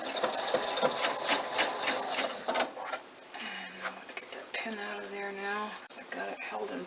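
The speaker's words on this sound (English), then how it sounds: "now I'm just going to sew across, get underneath the machine here" A home sewing machine stitches across bulky quilted fabric, its fast mechanical whir running steadily in bursts with brief pauses, close and fairly loud, while a person speaks over it.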